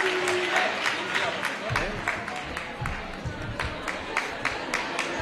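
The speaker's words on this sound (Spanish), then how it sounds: "Un aplauso para la profesora del ganador, Soledad González Cabanilla" Steady, dense applause from an audience at a geology olympiad awards ceremony, honoring a winning student's teacher; continuous crowd clapping holds at an even level with faint voices mixed in.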